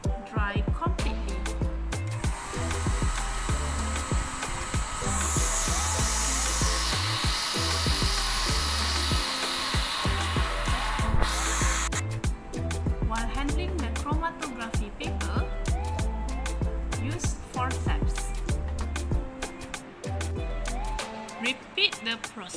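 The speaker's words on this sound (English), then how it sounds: "Using hairdryer, let the drop dry completely." Hair dryer blowing on a drop of chlorophyll extract on chromatography paper, a steady airy whoosh lasting several seconds in the middle, partly masked by background music and talk.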